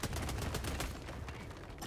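Artillery fire in the video game Helldivers 2 comes as rapid, clustered booming bursts, fairly quiet and distant-sounding, with no talk over it.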